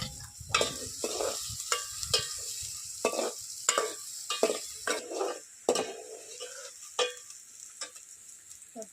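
Onions fry in a hot pan in a village kitchen, with a constant sizzle under repeated scraping and clinking strokes of a stirring spoon against the metal, loud and close.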